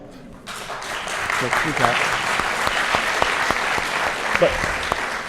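Audience applause at a talk on art and activism, a sustained crowd of claps filling the room for several seconds.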